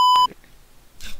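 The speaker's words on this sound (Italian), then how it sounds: "devo ricordarmi tutto e cercare il punto per mettere il beep" A loud, steady censorship beep tone sounds for about a quarter second at the start, cutting off abruptly, followed by quiet background and a brief faint noise.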